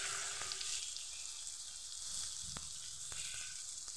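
Thin onion slices sizzling in hot oil with five-spice seeds, a faint steady hiss with a few soft ticks and clinks, quiet and without talk.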